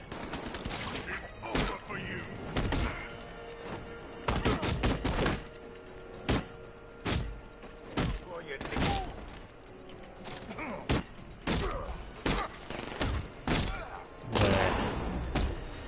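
Gunfire and impacts from the video game Batman Arkham Knight, with dense bursts of shots and thuds going off repeatedly and loud throughout, with several voices talking and reacting over the action.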